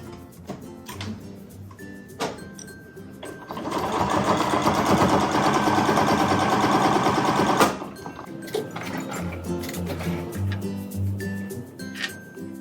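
Sewing machine test-stitching a double-thickness fabric scrap to mimic a quilt with lining, one continuous fast run of about four seconds, close and loud, with softer handling clicks before and after.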